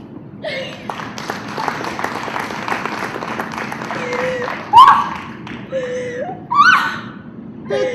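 A burst of clapping and applause from a small group, with thumps and taps, mixed under loud, overlapping voices and shouts.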